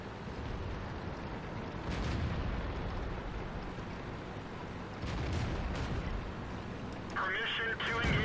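Video game artillery fire, a continuous rumbling barrage of heavy booms and blasts with a couple of louder impacts, under a voice speaking.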